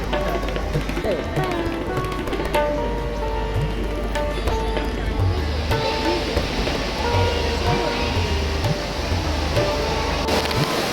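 Flowing water at Gagangiri Maharaj Math in Khopoli makes a steady, dense rush throughout, with crowd chatter and voices in the background.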